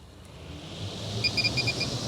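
Kitchen fan running as a steady, faint broadband whoosh, with a few brief high beeps partway through.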